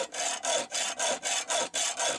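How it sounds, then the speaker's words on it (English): A hand tool saws back and forth across a part of a 1920s percolator, giving eight or nine even, close rasping strokes in a steady rhythm with short gaps between them. "it may not be easy to cut through this"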